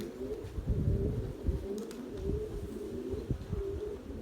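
Tumbler pigeons coo steadily in low, throaty phrases on a windy day, the calls repeating close and even with a few light clicks and bumps mixed in.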